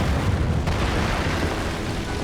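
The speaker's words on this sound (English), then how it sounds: "That's a big damn explosion." A big explosion in the Final Fantasy 14 Heavensward finale, bombs going off in a dense, loud, rumbling roar that sustains for a couple of seconds.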